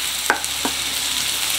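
Ham frying in a pan, a steady close sizzle broken by two short scraping stirs, with no talking.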